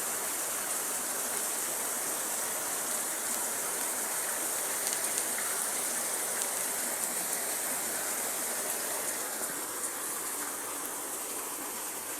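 Heavy rain pouring outside a house, a dense, unbroken hiss of falling water that holds steady and moderately faint, with no voices.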